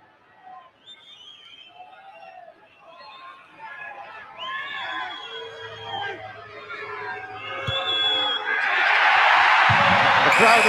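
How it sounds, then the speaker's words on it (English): A rugby stadium crowd in Edinburgh cheers a successful Scotland kick at the 1999 World Cup against the All Blacks; murmuring babble and a commentator's voice build into a loud, rising roar near the end. "The crowd will tell you that was another successful one."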